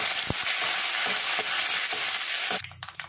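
Cumin, chana dal, dried red chillies and curry leaves hit hot oil with a loud, dense crackling sizzle that drops off abruptly near the end, leaving a quieter spattering.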